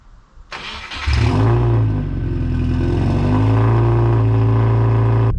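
A Subaru Legacy GT with an EJ20Y turbo engine starts up with a clatter, then revs loudly and steadily up close as the car pulls away, its droning engine tone rising and holding with no talking.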